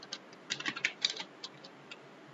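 Rapid, irregular clicks of a computer keyboard as JavaScript code for a puzzle game is typed, with light keystrokes in uneven bursts, close and fairly quiet, with no voices.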